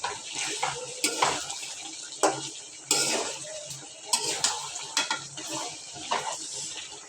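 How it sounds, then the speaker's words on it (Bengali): Duck meat being stir-fried down in a pan for a spiced duck bhuna, with a spoon scraping and clattering against the pan in irregular bursts over a steady sizzle. Nearby, with no talking. "মাংসটা কষানো হয়ে এসেছে"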